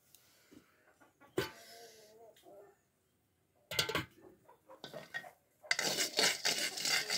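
Peanuts roasting in a pan, stirred with a metal utensil, giving bursts of scraping and rattling clatter separated by short pauses, with the busiest, densest scraping near the end.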